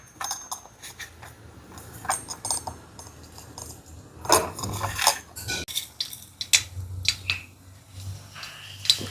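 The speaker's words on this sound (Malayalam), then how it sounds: "നെയ്യിൽ വേണം കടുക് വറുക്കാൻ." Mustard seeds popping in about two tablespoons of hot ghee for a Kerala ripe-mango pulissery tempering, giving scattered sharp crackles and clicks of uneven rhythm, close and fairly loud, with no talking.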